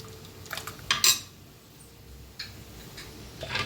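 Cooked dal being mixed in a pot with a utensil, giving soft irregular scrapes and a few sharper metallic clinks against the pot, fairly quiet and close with no talking.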